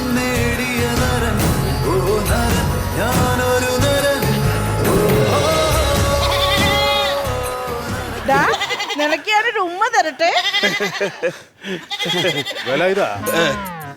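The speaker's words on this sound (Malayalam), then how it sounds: "ആട് ആട് ആട് ആട് ഇതാ ആട്" A goat bleats in a wavering, repeated cry that comes through clearly after a stretch of busy talking and background music in a comedy scene, with voices still speaking around it.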